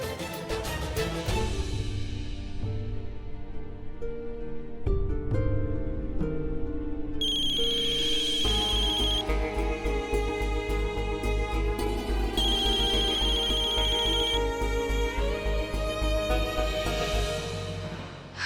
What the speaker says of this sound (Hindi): हम सुबह से 3 बार सृष्टि को फोन किए, लेकिन वो फोन ही नहीं उठा रही